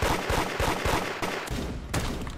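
Rapid gunfire bursts in the Roblox game Da Hood, loud and close with fast repeating shots in quick clusters and a short pause before a final volley, with no voices.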